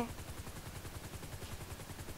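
Enemy gunfire rattles in GTA 5 Online: a rapid, evenly spaced burst of shots that runs nonstop for about two seconds, quiet and muffled as if heard from a distance.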